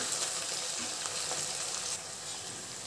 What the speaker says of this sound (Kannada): ಶುಂಠಿ ಬೆಳ್ಳುಳ್ಳಿ ಪೇಸ್ಟ್ ಹಾಕ್ಕೊಂಡು ಅದೊಂದು ಸ್ವಲ್ಪ ಹಸಿ ಸ್ಮೆಲ್ ಹೋಗೋವರೆಗೂ ಫ್ರೈ ಮಾಡ್ಕೊಳ್ಳಿ.